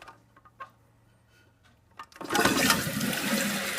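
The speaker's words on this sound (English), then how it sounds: "And then this is your full flush." A Glacier Bay toilet gives a full flush: after a few quiet clicks from the handle, water rushes loudly into the bowl and keeps swirling and draining close by.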